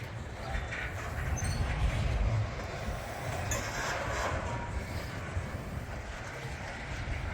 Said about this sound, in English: All right, this stack train is still going.